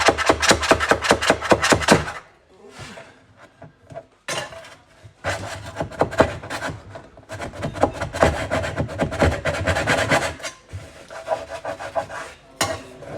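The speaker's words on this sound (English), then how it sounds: "then all we do is sand it" An old kitchen cabinet surface being sanded by hand, with close, loud, rhythmic back-and-forth rasping strokes in bursts separated by short pauses and occasional knocks.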